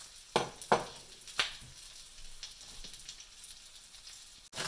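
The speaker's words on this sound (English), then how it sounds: "Start by frying some shallots, onions, and garlic until fragrant." Shallots, onions and garlic fry in a wok with a steady, quiet sizzle, broken by a few sharper crackling bursts and spits near the start and a louder clatter at the very end.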